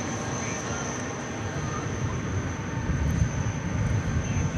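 A UPS cargo plane from Louisville arrives at DFW in the evening, a distant, steady jet rumble with a faint high whine, while a voice talks over it.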